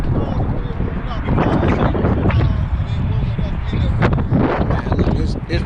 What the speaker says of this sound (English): This wind chill is killing out here.